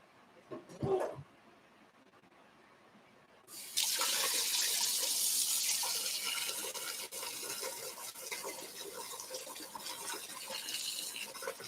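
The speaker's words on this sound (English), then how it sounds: "we will put in some more water to fill this up and completely cover up the rest of the iron" A brief knock comes first, then water gushes steadily into a container to cover pieces of cast iron. The running flow stays loud and continuous to the end, with no talking.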